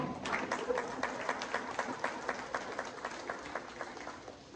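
A church congregation applauds during a Spanish-language sermon on self-control, a brisk, fairly steady round of clapping that holds for several seconds at moderate level before tapering off.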